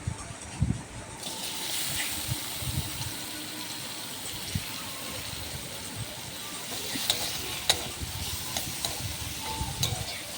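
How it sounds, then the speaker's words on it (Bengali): Potatoes frying in mustard oil in a pan, a steady close sizzle with stirring scrapes and occasional clinks running throughout, no voices. "সর্ষের তেল দিয়ে আলুগুলোকে ভেজে নিলাম।"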